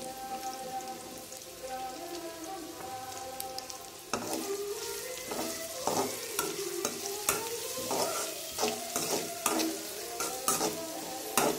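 Crushed garlic fries in a pan for a potato gravy, with a soft sizzle at first, then louder, rhythmic scraping and stirring strokes over a continuous crackle. No voices are heard.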